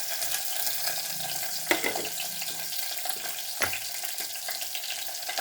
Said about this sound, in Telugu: నూనె వేడెక్కింది, ఉల్లిపాయలు వేసుకుందాం.